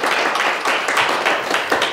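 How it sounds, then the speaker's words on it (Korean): Short burst of clapping from an audience at a Korean lecture in Daejeon, loud and close with uneven pulses of hand claps. "큰 박수 부탁드립니다."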